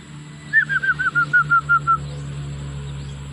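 Backyard chicks among hens let out a quick run of about nine bright, evenly spaced peeps close by, each slightly lower than the last, before a steady low background hum carries on alone.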